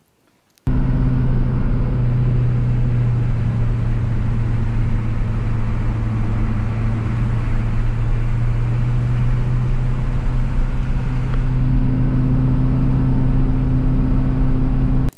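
A 1986 M1008 military truck engine runs steadily and loud up close, a continuous low drone with a deep hum that holds through to the end, starting just after a brief quiet moment.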